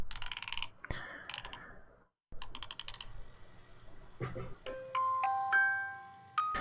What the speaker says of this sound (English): so I added some wind-up noises and some mechanical noises